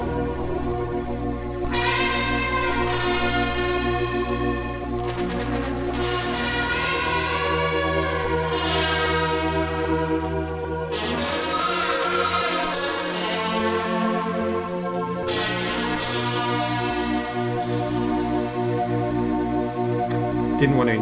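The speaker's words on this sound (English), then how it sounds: "that's the game over sound." Game-over tune from an Amiga video game: steady, loud synthesized chiptune-style music with sustained chords and melodic lines playing continuously for about twenty seconds, with no talking.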